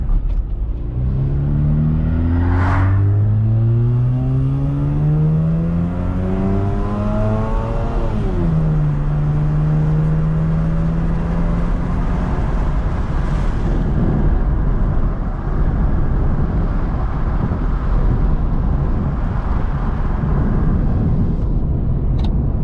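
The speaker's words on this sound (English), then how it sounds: "I am basically deciding to take this car out for a test drive." Mazda RX8 rotary engine on a test drive, heard from inside the car: revs climbing through the gears with a shift drop, then a steady cruising hum over road and wind roar, loud and continuous.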